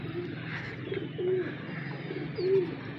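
Pigeons coo softly on a rooftop, a couple of low rolling coos rising over faint background ambience at moderate distance.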